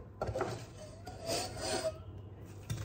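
A salad of quinoa and corn being mixed in a bowl gives soft, close rubbing and scraping strokes, a few quick passes in a quiet kitchen.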